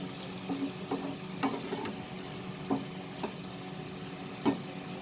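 Bottle gourd bhaji frying in a pan over a medium flame, a soft steady sizzle broken by occasional clicks and scrapes of stirring, fairly quiet and close with no voices.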